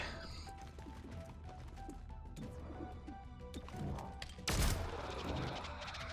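Gunfire in XCOM: Chimera Squad, with scattered shots and impacts over game ambience and a single loud, sharp blast near the end.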